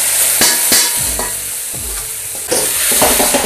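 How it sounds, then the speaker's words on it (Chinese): Drained shiitake mushroom slices stir-frying in hot oil in a wok, a loud close sizzle broken by repeated scraping strokes of a spatula at an uneven rhythm. "把香菇先煎炒一下"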